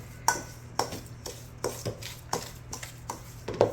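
Spoon working thick chocolate chip cookie dough in a bowl, giving about eight rhythmic scraping knocks, close and clear with no voices.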